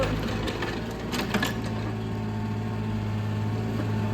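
A used imported Kobelco SK30SR 3-ton mini excavator with a Yanmar engine, steel tracks, blade and canopy, idles with a steady low mechanical drone and hum that stays even throughout, with no voices.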